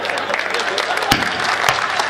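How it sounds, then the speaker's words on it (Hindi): An audience at a live Hindi comedy show claps, a dense burst of steady applause with some voices mixed in. "ये ताली वही, हाँ ताली वही लोग बजा रहे जो मैं बारात आए थे"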